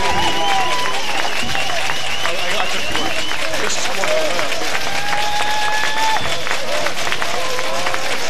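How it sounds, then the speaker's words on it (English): High school football crowd in the stands as the kickoff gets underway, a dense, steady roar of cheering under continuous talk from a commentator. "Cardinal Newman crowd standing up."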